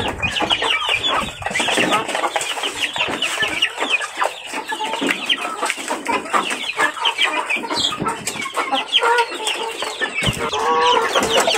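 Chickens kept in backyard pens, a dense chorus of clucking from many birds close by, continuous with overlapping calls throughout.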